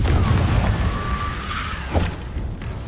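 Confringo fire spells from Hogwarts Legacy burst in a rumbling series of booms and thuds with whooshing tails, dense and loud throughout, a sharper blast near the end.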